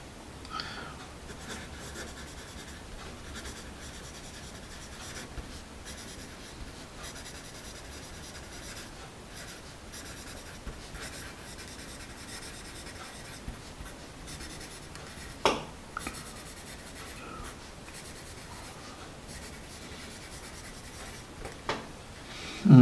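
A Nataraj marble HB pencil scratches steadily across paper in a soft, continuous writing rasp, close and quiet, with a few small taps near the end.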